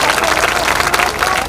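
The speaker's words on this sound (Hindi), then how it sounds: "जोरदार ताली बजा करके उनका स्वागत करिए।" A large crowd at a political rally in Sasaram, Bihar claps loudly and steadily, a dense wash of applause throughout.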